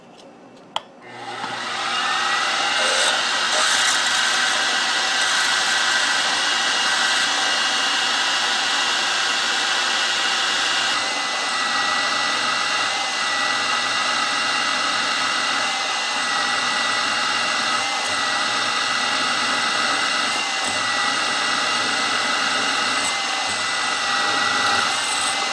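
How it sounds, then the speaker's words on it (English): A drill bores a number 9 clearance hole through a steel indicator holder for a Craftsman/Atlas lathe, a steady high motor whine running continuously near and loud after a brief start. "This hole here gets drilled, this number 9, all the way through."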